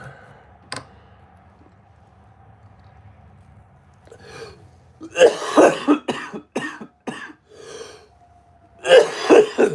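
A quiet stretch gives way to a series of harsh, close coughs in short bursts, with a final loud cough near the end.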